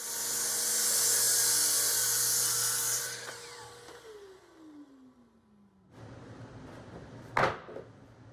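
A miter saw motor cutting wooden boards for an outdoor table whines loudly and high-pitched for about three seconds, then spins down with a falling tone, followed by a short sharp knock near the end.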